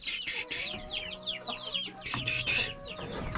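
Chickens clucking in a rural village coop, several birds giving repeated overlapping clucks and short calls at close range, fairly steady throughout with no talking.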